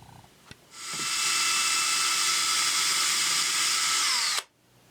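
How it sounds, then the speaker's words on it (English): A power drill whirs steadily at high pitch for about four seconds, close by, then cuts off abruptly. "So now I got to see about drilling a hole."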